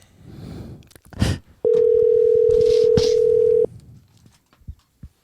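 A telephone dial tone sounds while a call is being placed, a loud steady unbroken tone lasting about two seconds, preceded by brief rustling and a short breathy noise, with faint clicks after it.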